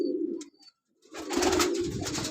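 A Teddy pigeon from a breeding pair gives a low, close, throaty coo, with a short pause and then a louder, fuller rolling coo with faint ambient noise behind.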